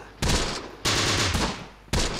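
Machine gun fire in the war strategy game Close Combat: The Bloody First, three loud bursts of rapid shots close by with brief gaps between them.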